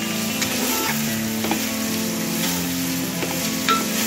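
Carrots and other vegetables stir-fry in a nonstick pan for noodles, a bright continuous sizzle with occasional soft scrapes and taps of the spatula, close and without any voices.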